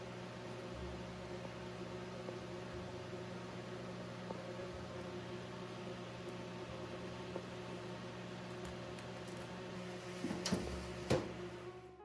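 A food dehydrator drying mushroom jerky runs with a steady, low fan hum that continues throughout, with a couple of faint clicks near the end.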